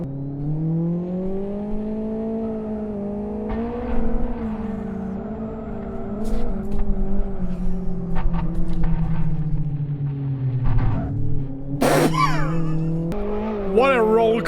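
A rear-wheel-drive race car without downforce, a 2000s-era build in the Live For Speed racing game, drones with a steady engine note that rises and falls through gear changes, with tire squeal near the end and a voice talking over it.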